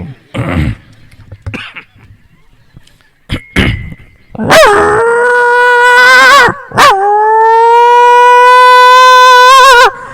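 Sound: voice imitating dog howling

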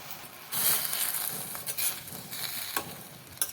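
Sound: sautéing vegetables with tamarind in a pan

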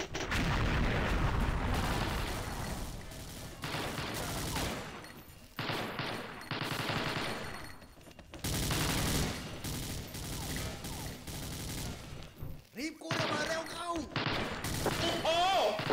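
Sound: gunfire in the shooting video game XSHOT

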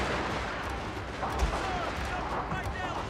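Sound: shrapnel shot artillery fire in Fall of the Samurai video game

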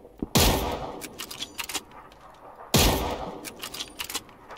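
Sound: gunfire in the video game PUBG

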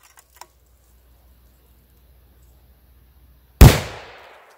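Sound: rifle shot, 6.5x284 Norma, Nosler 129gr Accubond

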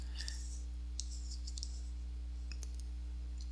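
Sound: button clicks and keyboard typing on a phone emulator

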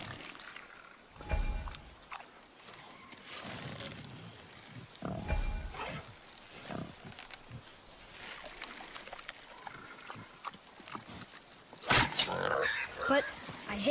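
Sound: wild boar grunting in the video game God of War

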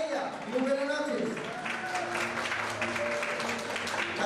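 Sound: applause

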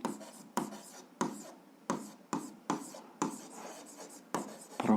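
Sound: writing on paper

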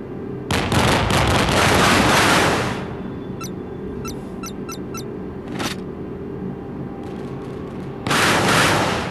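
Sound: warship artillery firing in Modern Warships video game

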